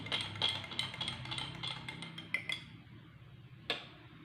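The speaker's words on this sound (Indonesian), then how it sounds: "Kemudian aduk hingga homogen." A metal spoon clinks and taps against a glass in an uneven run of light strikes, stirring oil into liquid in a lab test, close by, with a final louder clink after a pause.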